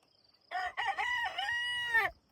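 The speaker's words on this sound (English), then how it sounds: "and a chicken." A rooster lets out a single loud, close crow of about a second and a half that rises and then trails off, with nothing else heard around it.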